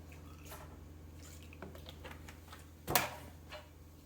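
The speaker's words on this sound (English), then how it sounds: "I am going to put a splash more milk in here" A single brief liquid splash as milk is poured over tilapia fillets in a kitchen, standing out once against a low steady hum.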